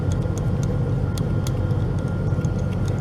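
A parked truck's engine idles in a low, steady rumble on a work site where a post is being removed with a jack, with faint clicks and taps scattered over the drone.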